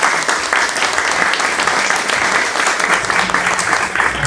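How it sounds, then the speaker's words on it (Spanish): An audience at a political event on health applauds, with sustained, dense clapping that holds steady from start to finish at close range. "Por favor, un aplauso."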